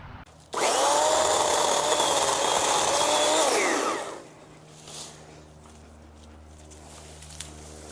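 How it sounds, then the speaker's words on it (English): A chainsaw cuts through brush, roaring loud and close at a steady high rev for about three and a half seconds before winding down and leaving a quiet outdoor background. "I think I get the chainsaw back in here."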